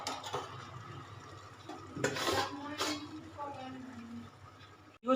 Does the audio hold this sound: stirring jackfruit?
yes